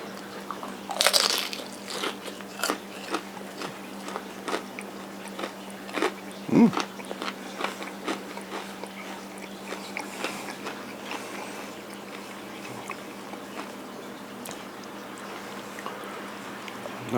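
Crunchy bites and chewing on a fried chile relleno shrimp wonton with cheddar and dipping sauce, close and fairly quiet, with several crisp crunches early and then a steady run of softer chewing.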